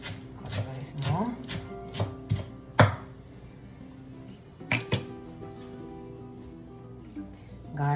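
Irregular knife taps on a board as ingredients for chicken soup are cut very small, a few sharp clinks among them, with sparse quieter handling noise between strokes.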